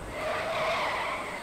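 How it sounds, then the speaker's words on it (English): Car tires screech loudly in a single sustained skid that rises and holds for about a second before easing, alone without voices. "The screeching of car tires jolts your attention away from the people working and towards the cottages on your right"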